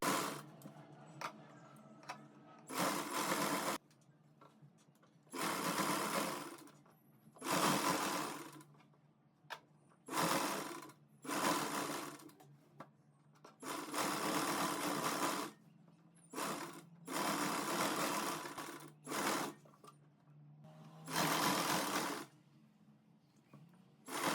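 A sewing machine stitches a semi-Patiala salwar in repeated bursts of fast, even mechanical whirring, each run lasting a second or two, separated by short near-silent pauses, steady and close by with no talk.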